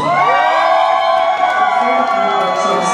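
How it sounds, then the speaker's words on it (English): Nightclub crowd at a drag pageant cheering and screaming for a contestant, a loud, sustained wall of whoops and high shrieks from many people close by. "Let's all scream together for contestant number 14."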